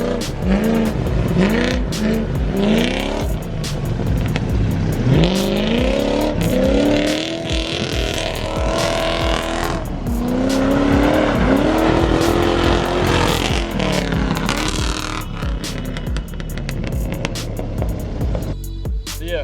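A truck with a straight-through 2.5 inch side-exit exhaust runs at full throttle, loud and raspy, climbing through repeated rising revs and gear changes close to the microphone for the whole stretch, with no talking.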